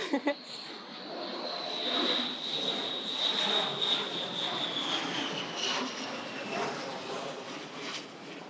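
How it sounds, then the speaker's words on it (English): A jet airplane drones steadily overhead in Singapore, a broad roar with a faint high whine, fairly distant and constant throughout. "usual airplane traffic over Geylang on a weekday"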